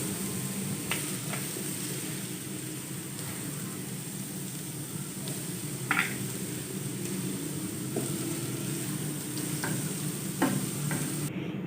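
Three ingredients frying in a kadhai for Indian-style white sauce pasta give a steady, even sizzle throughout, with a few faint clicks and taps of a spoon against the pan.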